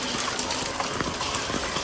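Floodwater from a river swollen after a cyclone rushes and gushes steadily, a dense continuous watery roar close by with no voices.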